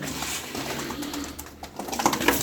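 Arab tumbler pigeons coo softly in their loft, several low, throaty calls repeating close by alongside light rustling and scattered clicks, no talking over them.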